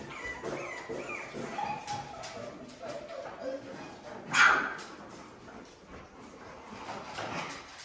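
Puppies yip, whimper and give small barks in short irregular bursts, with one louder squeal standing out, while people talk in the background.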